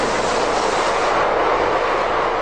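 A Renfe Cercanías commuter train in Spain rushes past with a steady, loud, broad roar of rolling noise and no pauses.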